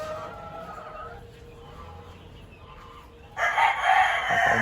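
At a game farm holding Hatch breed gamefowl hens, a rooster crows loudly and close after a few quieter seconds of background clucking, with no speech.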